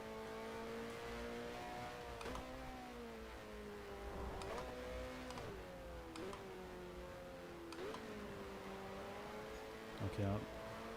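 A 1972 Formula 1 car in F1 Challenge revs hard through repeated gear shifts, its steady engine whine dropping and climbing at each change, close and continuous throughout.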